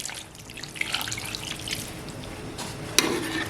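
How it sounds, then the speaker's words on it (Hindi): Water poured into Lahore-style chicken karahi in a pressure cooker over a low flame, a soft splashing trickle with scattered drips, fairly quiet and close, ending in a couple of sharper splashes. "अब इसके अंदर हम पानी शामिल करेंगे"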